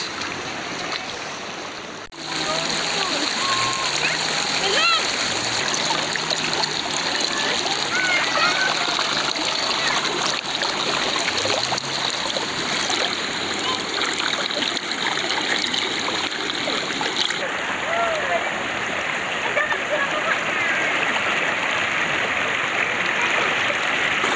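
Water splashing in a river during bathing, a steady broadband wash of splatter and flowing stream close by, with children's voices talking over it throughout.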